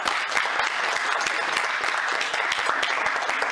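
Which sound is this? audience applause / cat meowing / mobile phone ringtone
audience applause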